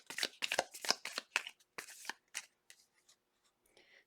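A deck of tarot cards is shuffled by hand during a reading. A quick run of crisp riffling bursts comes first, then a few lighter, sparser taps fade out, all close and quiet.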